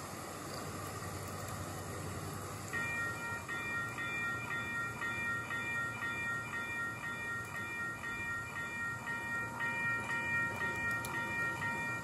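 A train rolls past in a video game, a steady rumbling wagon noise with faint tonal whines that sets in around three seconds and carries on evenly to the end, with no talking.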